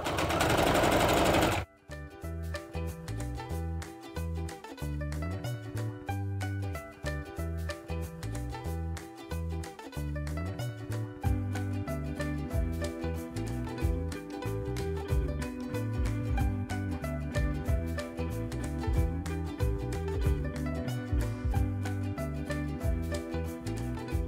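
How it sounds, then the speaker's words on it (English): A sewing machine stitches layered fabric for a washable face mask, its rapid needle clatter running steady and loud for over twenty seconds after a brief opening burst, with short pauses and speed changes along the seams. "we will stitch all 4 sides of the fabric, but we will leave a small gap unstitched"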